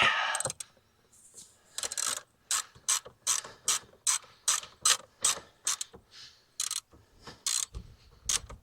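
Ratchet tightening the battery hold-down on a 2008 VW Eos 2.0T, a steady series of about a dozen sharp clicking strokes, close and clear with no talking.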